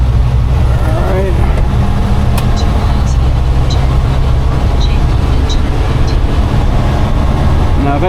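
A 1988 Grumman LLV mail truck drives with a constant loud engine and road drone, someone talking over it briefly near the start.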